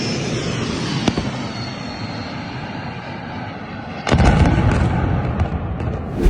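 Russian-laid mines are blown up in the ground by a US-made mine-clearing vehicle in Ukraine: a droning engine rumble, one sharp crack, then a sudden loud blast and a sustained roaring rumble.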